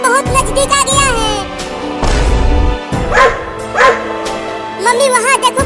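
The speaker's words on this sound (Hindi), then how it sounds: "कुत्ता बहुत नजदीक आ गया है" A cartoon dog barks and yelps repeatedly in loud, close bursts while chasing, mixed with excited speaking voices and busy background sound.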